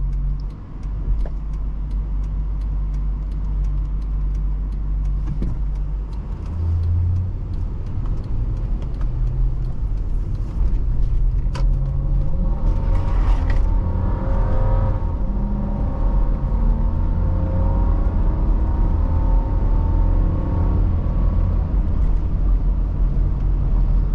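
The engine of a 1999 Toyota Land Cruiser revs up steadily toward its 5,000 rpm redline, a loud, close drone whose pitch climbs smoothly before settling as it eases off.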